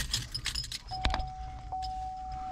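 Keys jangle once in a brief metallic rattle beside a 2010-17 GMC Terrain or Chevrolet Equinox during a windshield washer pump repair, over low steady engine rumble and a sustained tone.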